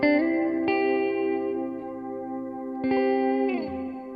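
Electric guitar run through a pedalboard with a subtle chorus pedal, producing sustained shimmering chords with a faint warble and a light wash of reverb, played alone with a few strummed changes.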